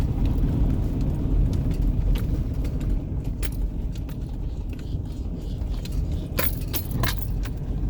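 Car idling and slowly pulling aside on a snowy, foggy winter road in Pemberton Meadows, a steady loud engine and road rumble with scattered jangling clicks and taps in the cabin, no speech.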